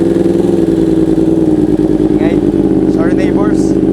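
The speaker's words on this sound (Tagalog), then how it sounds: "Cold start muna." A Yamaha R1 sport motorcycle idles steadily and loudly after a cold start, its low engine rumble continuous and close, with faint chirps and higher sounds briefly above it.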